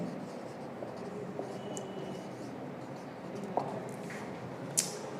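Parameters are written on a board: faint, steady scratching and tapping strokes, quiet and close, with a couple of sharper clicks near the end.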